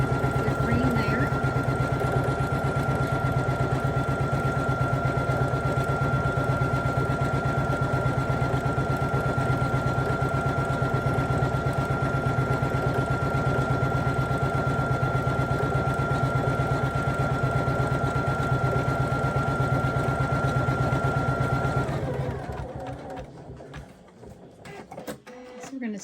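An embroidery machine stitches the frame outline of a Mardi Gras appliqué design on a sweatshirt, giving a steady, loud mechanical whir with a constant high whine that runs unbroken for about 22 seconds, then stops near the end.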